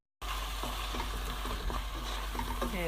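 A pan of tomato sauce with chopped canned tomato sizzles and bubbles steadily, with faint stirring scrapes and small pops throughout, no talking.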